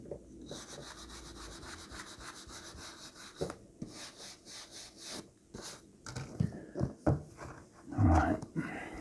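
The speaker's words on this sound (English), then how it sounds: "So let's give these 8 a brush now." Vintage Penguin paperback books are brushed clean with quick, close, bristly strokes in a fast rhythm, then slower scuffing and handling noises as the books are moved.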